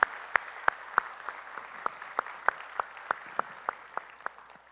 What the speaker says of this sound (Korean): 우리 찬양을 받으시 주님께 영광의 박수 올리겠습니다